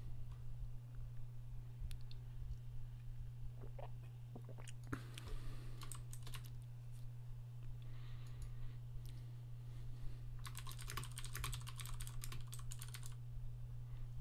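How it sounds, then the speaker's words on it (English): Typing on a computer keyboard during an online Magic card game: scattered key clicks, then bursts of rapid tapping, quiet and close over a steady electrical hum. "I don't even know where I was typing there."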